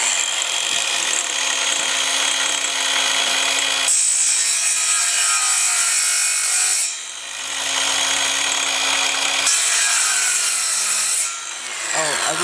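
A Craftsman CMCS714M1 cordless miter saw scores cement board with a miter cut, a loud, close, continuous grinding whine broken by two brief pauses where the blade eases off.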